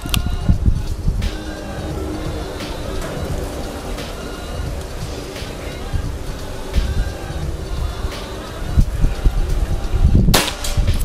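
A sharp PCP air rifle shot firing a slug cracks once near the end, loud and sudden, over a noisy outdoor background of rain-like patter.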